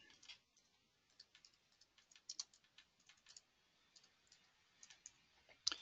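Mouse clicks and keyboard typing on a computer come as faint, scattered, irregular taps and clicks, quiet and close, with no talk.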